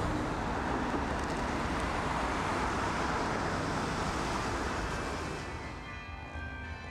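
City traffic in Brussels, a broad continuous roar of passing vehicles on the roadway, loud and steady before easing slightly toward the end, with no voices.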